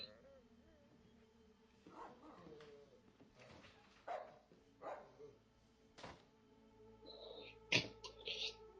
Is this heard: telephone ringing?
no